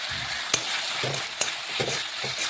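Cabbage frying in a pan with Kashmiri red chilli powder, a steady close sizzle with a few sharp clicks of a spatula stirring against the pan.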